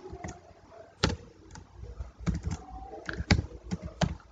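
Code is typed on a computer keyboard in short irregular bursts of close, crisp key clicks, with a few sharper strikes and no talking.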